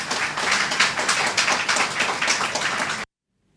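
Loud, dense applause from an audience at a ceremony with Djibouti and Chinese partners, honoring a doctor's work, with rapid overlapping claps that end abruptly into silence.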